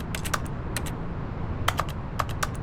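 Keys clacking on a computer keyboard in The Stanley Parable Ultra Deluxe, typed in short irregular bursts of crisp, close keystrokes with brief pauses between clusters.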